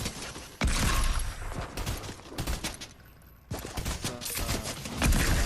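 Video game gunfire in rapid bursts of loud shots, close and sharp, with a brief lull in the middle before the firing resumes.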